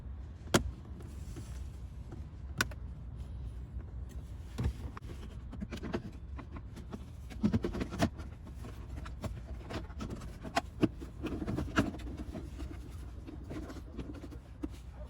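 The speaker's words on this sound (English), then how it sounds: "I'm just going to put the screws back in" Screws are driven back into the glove box of a Chevy Volt by hand, giving faint scattered clicks, scrapes and taps at close range with quiet pauses between them.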